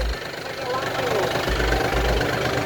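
A Yanmar 53 hp four-wheel-drive tractor idles in neutral with a steady low diesel rumble and a faint knock running throughout, while people talk over it.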